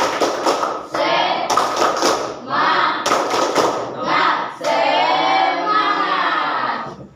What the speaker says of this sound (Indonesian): Gimana kalau kita tepuk semangat lagi?